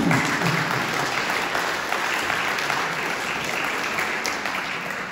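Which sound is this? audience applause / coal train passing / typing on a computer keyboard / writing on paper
audience applause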